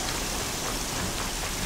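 Heavy rain in the Horizon Zero Dawn video game, a dense, steady hiss of downpour filling the scene evenly with no breaks and no voices.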